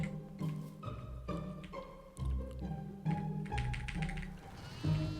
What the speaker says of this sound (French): Ah là, il y a une chèvre.